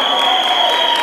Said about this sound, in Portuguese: Vamos aplaudir, gente, mais uma vez.